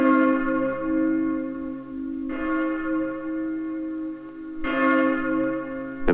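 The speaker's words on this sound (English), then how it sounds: "The bells of the ossuary at Verdun" Large church bells of the ossuary at Verdun toll slowly and resonantly, with three distinct strikes spaced a couple of seconds apart, each ringing out and fading into a long hum.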